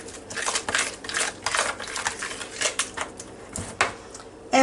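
Pineapple pie filling being stirred in a bowl for a no-cook pie, with a steady run of soft scraping and clinking strokes, close and moderately loud, and no talking.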